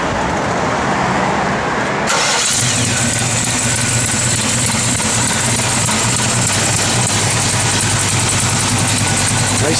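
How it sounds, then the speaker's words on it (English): A 1967 Chevrolet Chevelle SS V8 with a lumpy cam fires up after about two seconds of quieter background, then settles into a loud, steady idle close by, with a faint voice in the background. "When Jay fires it up, man, this thing sounds good"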